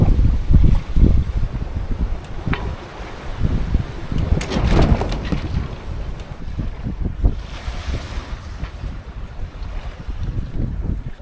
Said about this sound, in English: the winds have just picked up all around us